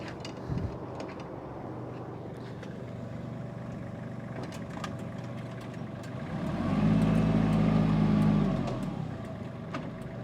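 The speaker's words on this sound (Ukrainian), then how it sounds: "І давайте перевіримо ще ґрунтофрезу." A Kubota KL230 mini tractor's small engine idles steadily, then revs and labors louder running a rotary tiller for a couple of seconds with a droning hum before easing back down.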